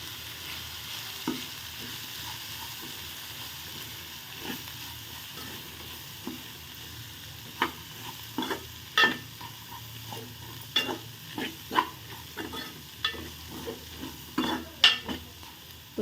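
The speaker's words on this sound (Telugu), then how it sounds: "ఒకసారి కలుపుకోవాలి." Bitter gourd fry seasoned with sugar and chili powder is stirred in a pan over a soft sizzle, with a run of distinct scraping and clanking spatula strokes that grow busier and louder toward the end.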